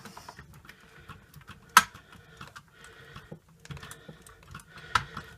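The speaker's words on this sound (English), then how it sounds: "And we go this side with the last two screws, though we do get a spare." Screws being driven by hand into a Back to the Future DeLorean model kit, giving soft, close clicks and ticks with two sharper knocks, all quiet and with no talking.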